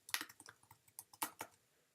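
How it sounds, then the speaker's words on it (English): Someone types a single word on a computer keyboard while using design software: a quick run of about a dozen light key clicks, close but quiet, with no talking. "I'm going to type in the word fearless"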